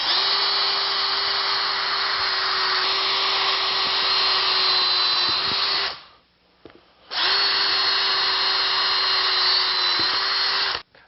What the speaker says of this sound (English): With an 1/8 inch drill bit, drill a hole right in the middle of that line about every 6 to 8 inches.